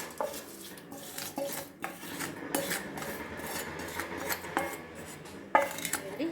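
A hot tempering goes into brinjal curd curry and gets stirred through, with a spoon scraping and knocking against the pot in an uneven, close rhythm, no talk.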